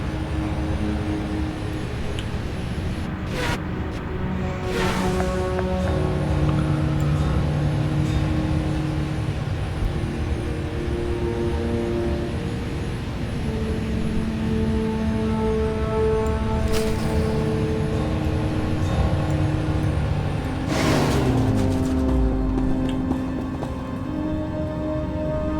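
A vehicle in Star Wars: The Old Republic runs with a steady, droning engine hum for the whole stretch. Tonal layers shift slowly over it, and a few louder whooshing swells pass through.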